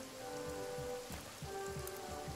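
Rain summoned by a rain scroll spell in the game Divinity: Original Sin, a steady patter of drops on surfaces with soft tonal game ambience beneath; even, continuous and moderately quiet.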